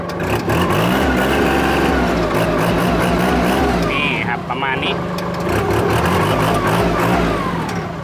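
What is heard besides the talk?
Kubota L3608dt used tractor engine running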